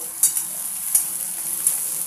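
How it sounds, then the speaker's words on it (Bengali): Eggplant sizzles in hot oil with a bright, steady hiss, broken by three soft scraping stirs spaced evenly apart, close and fairly loud. "এখন আমি এই তেলের মধ্যে বেগুনটা ছেড়ে দিয়েছি বন্ধুরা, বেগুনটা একটু ভেজে নেব"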